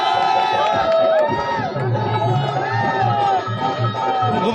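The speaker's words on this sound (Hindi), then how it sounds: "यहाँ पर भारी संख्या में लोग मौजूद हैं। लोगों में काफ़ी जोश है" A large, excited crowd cheers and shouts at an election-day rally as Akhilesh Yadav's helicopter lands, a loud, dense roar of voices and whistles sustained throughout.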